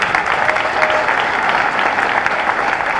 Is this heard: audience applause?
yes